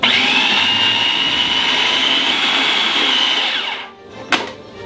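A food processor whirs loudly and steadily as it pulses cream into a salmon terrine mixture, then winds down and stops, followed by a short clatter.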